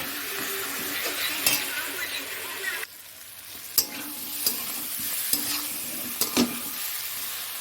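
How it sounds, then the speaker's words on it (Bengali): Softened tomatoes being stirred and mashed in a frying pan for a rohu fish curry, with steady sizzling broken by several sharp scrapes and taps of a utensil against the pan, close and clear. "ভালো করে নেড়ে চেড়ে টমেটোটা দেখো নরম হয়ে গেছে এটা হলো ফাটিয়ে দিচ্ছি দেখো"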